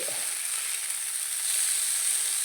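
Sardines frying in a pan, a continuous bright hiss of hot oil sizzling steadily and close, with no voices.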